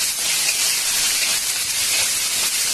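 Steady, loud sizzling hiss of curry leaves and dried red chillies frying in hot oil, continuous throughout with faint crackles and no talking.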